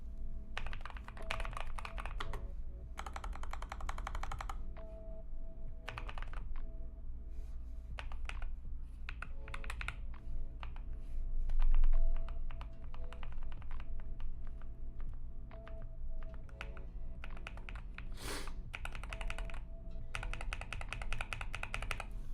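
Rapid, uneven clacking of computer keyboard keys being typed on during a coding session, close and steady with brief pauses between bursts, over a low background hum.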